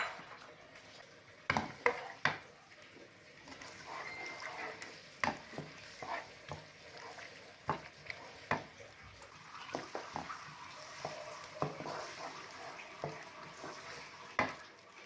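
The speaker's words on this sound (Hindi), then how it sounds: "सबसे पहले हमने प्याज ऑयल में डालनी है और इसको अच्छी तरह फ्राई कर लेना है।" Onions frying in oil in a pan, a soft steady sizzle broken by scattered clicks and clatters as they are stirred, fairly quiet and close.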